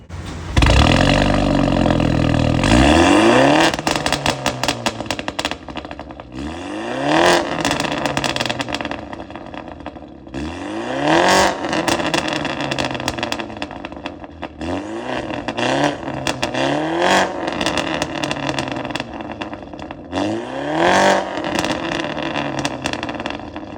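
BMW G22 M4 with a Varex valved exhaust revving repeatedly, loud close bursts where the engine climbs sharply and falls back between idle stretches, about five blips in a row, no talking.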